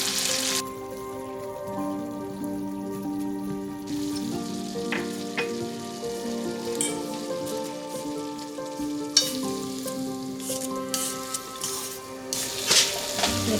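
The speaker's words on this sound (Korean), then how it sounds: "이렇게 해서 뚜껑 덮고 한 5분에서 10분 정도 볶을게요." Gobi namul, a Korean wild-vegetable side dish, stir-fries in a pan with onion and garlic, giving a steady soft sizzle and crackle with occasional louder spits and stirring scrapes and no talking.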